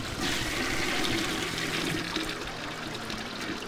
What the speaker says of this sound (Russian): Вода смывается и набирается кровью.